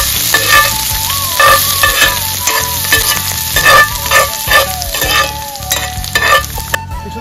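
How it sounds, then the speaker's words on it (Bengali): Garlic and chopped ginger fry loudly in hot oil, a close, constant sizzle with repeated scraping stirs, while a faint tonal sound wavers in the background. "আদাটা ভেজে নেব"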